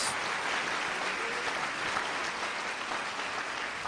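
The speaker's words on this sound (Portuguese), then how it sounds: "Você pode aplaudir ao Senhor por esta palavra?" A church congregation applauds in a steady, even wash of clapping that sounds somewhat distant and roomy and holds at a constant level throughout.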